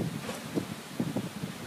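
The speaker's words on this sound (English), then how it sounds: "It is windy." Gusty wind buffets the microphone outdoors, a steady rumbling roar with a few stronger blasts and no voices.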